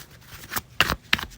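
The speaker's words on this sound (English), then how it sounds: "I think I'm going to keep shuffling" Tarot cards being shuffled by hand make three or four brief papery riffles and slaps, close and fairly loud, separated by short pauses.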